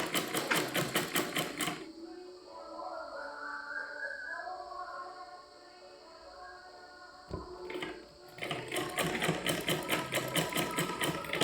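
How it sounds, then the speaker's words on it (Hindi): A sewing machine stitches a double seam, running in fast rhythmic bursts at the start and end, close and loud, with a voice talking through the quieter middle pause. "अब इसकी शो बढ़ाने के लिए हम इस सिलाई को डबल कर देंगे।"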